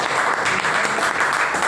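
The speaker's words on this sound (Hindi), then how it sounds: "एक बार मीठी ताली बजा दीजिएगा।" Audience applause at an interview event for a Hindi news channel, a loud, dense, continuous clapping from a crowd with no speech over it.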